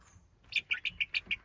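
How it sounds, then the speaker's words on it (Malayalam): Small chicks kept at home chirp in a quick series of about seven short, bright peeps at a steady rhythm, close by and fairly quiet, with no talking. "ചെറിയ കോഴിക്കുട്ടികൾ"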